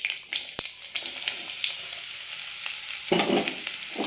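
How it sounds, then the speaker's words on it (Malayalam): Bottle gourd frying in a pan with curry leaves and dried red chilli, a close steady sizzle broken by the scrape and clatter of stirring, with a louder burst near the end. "ഇതെല്ലാം പൊട്ടിക്കഴിയുമ്പോൾ നമുക്ക് അതിലേക്ക് ചുരക്ക ചേർക്കാം."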